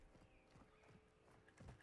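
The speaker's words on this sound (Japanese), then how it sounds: "足音めっちゃする。" Footsteps in the video game Call of Duty DMZ, a quiet series of soft, evenly spaced thuds approaching in the distance.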